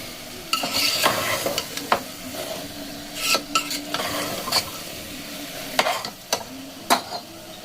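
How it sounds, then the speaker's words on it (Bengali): Spiced meat masala frying in a pan, a steady sizzle under repeated scraping and stirring strokes with a utensil knocking against the pan now and then, close up and without talk. "এটাকে আবার এক মিনিট এটাকে কষিয়ে এমনিভাবে মিশিয়ে নেব"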